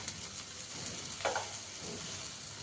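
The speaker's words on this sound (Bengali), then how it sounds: "এটা দিয়ে সিমুইটাকে একটু বেশ নেড়ে চেড়ে ভালো করে একটু হালকা ভেজে ভেজে নিচ্ছি মশলাটার সাথে।" Vermicelli fries in a pan with spices, giving a soft, continuous sizzle with a brief scraping stir near the middle, quiet and steady with no speech.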